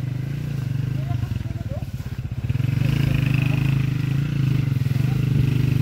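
Motorcycle engine running steadily nearby in a rural province, a continuous low rumble with a brief dip before picking back up, heard alongside faint background voices.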